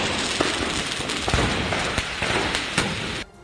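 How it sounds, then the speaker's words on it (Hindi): Firecrackers stored in a burning fireworks shop in Hyderabad crackle and pop in a dense, continuous barrage with sharper individual bangs, then cut off abruptly. "दुकान में रखे पटाखे इस तरह फटते नजर आए जैसे रेत की भट्टी में मक्के के दाने फूट रहे हो।"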